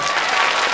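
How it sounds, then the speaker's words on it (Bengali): Loud audience applause at a school Rabindra-Nazrul Jayanti celebration after a drama, dense steady clapping filling the whole short moment without a break. "জোরে হাত তালি আর একটা"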